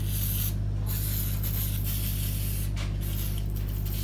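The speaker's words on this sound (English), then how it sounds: "So we're gonna put some VHT on this headlight as a test for the Duramax." VHT spray paint hisses continuously from an aerosol can onto a Duramax truck headlight, a close, steady spray with brief dips where the nozzle lets up, over a low electrical hum.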